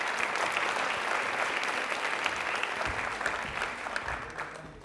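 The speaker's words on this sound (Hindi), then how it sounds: "एक बार तालियां प्लीज सर के लिए जोरदार हो जाएं।" A studio audience applauds a school principal on a TV quiz show, steady dense clapping held at an even level for about five seconds with no talk.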